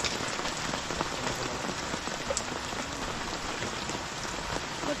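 Heavy rain pours steadily onto surfaces during an outdoor provincial gathering, a dense, constant patter close by with no one speaking.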